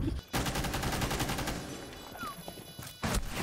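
Gunfire in a Rainbow Six Siege match rattles in rapid bursts of close, loud shots that run almost continuously, with brief pauses at the start and near the end.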